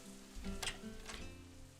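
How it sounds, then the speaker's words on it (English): Faint rain in the visual novel Katawa Shoujo, a quiet, brief hiss and patter with a couple of slightly louder splashes, heard alone with no talking. "It's rain."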